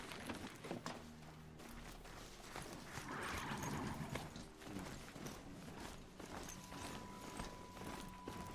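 A mechanical horse-like mount in Horizon Zero Dawn walks with steady, rhythmic clip-clop hoofbeats and faint metallic mechanism noises, fairly quiet and close, with a brief whinny-like call and no speech.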